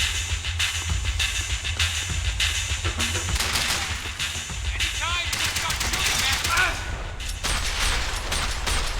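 Gunfire in the video game Max Payne 3: dense bursts of automatic shots and rapid fusillades over a continuous backdrop of game noise, with some scattered impacts and clatter.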